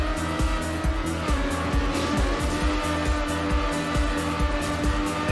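A race car in Trackmania Nations Forever, its engine droning steadily at high revs with a pulsing rhythmic beat and tire squeal over a continuous loud mix, with no talk.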